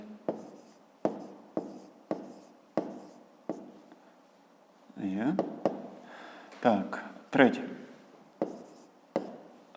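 Pen or pencil strikes tap out a regular series of sharp clicks while numbers are written by hand for a fifth-grade maths exercise, with a person talking over part of it.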